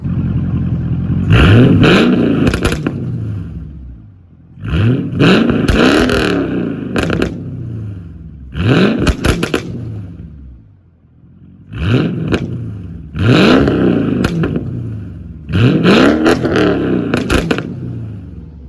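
A loud V8 engine in a Mercedes CLK 500 revs repeatedly through its exhaust in bursts, each rising and falling roar separated by brief idle pauses, close by with no talk.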